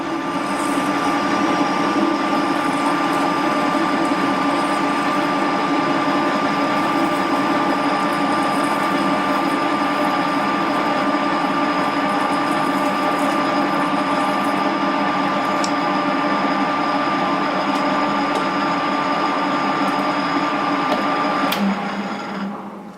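A lathe machines a slight taper on a tank drain part, giving a steady, loud whining hum with a sustained tonal cutting note that runs unbroken for over twenty seconds before winding down abruptly at the end.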